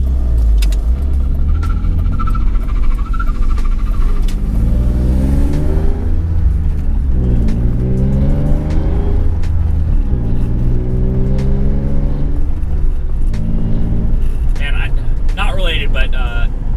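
A BMW E46 engine drones and rises in revs while driving, a steady low rumble with climbing tones underneath continuous talking from inside the car.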